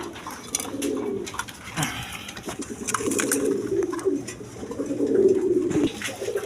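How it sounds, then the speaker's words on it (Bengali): Domestic pigeons coo close by in soft, throaty, repeated rolls, with a few brief flutters and rustles between calls. "এখানে এক পেয়ার আপনার দেশি গোল্লা কবুতর আছে"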